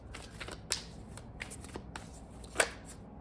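Tarot cards being shuffled, heard as faint papery rustling punctuated by a few sharper flicks and snaps. The sound is quiet and close over a low background hum.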